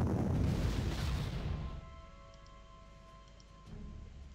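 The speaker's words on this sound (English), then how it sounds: "first we need to land some artillery on him" Artillery fire in the Rommel World War II strategy video game, a loud booming blast that rolls and decays over a couple of seconds, followed by faint tones and a softer thud.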